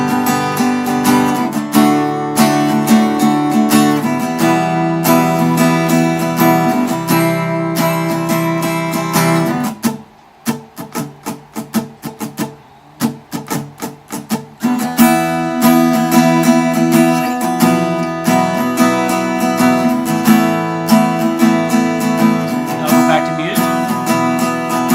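Loud, fast acoustic guitar strumming in a steady driving rhythm, dropping briefly to lighter muted strokes before picking back up.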